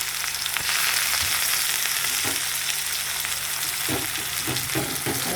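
Onions frying in oil over a black cumin (kalo jeera) tempering, a close, steady sizzle with a few scraping and stirring knocks toward the end, no voices.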